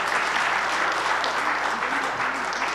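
Steady applause from a conference audience at a housing plenary session, dense and even throughout, with no voices standing out.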